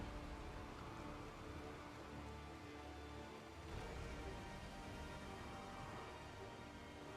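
Rain or death fog ambience in a multiplayer video game mod: a continuous, dense hiss of rainfall-like noise holding at a steady, fairly quiet level throughout, with no voices.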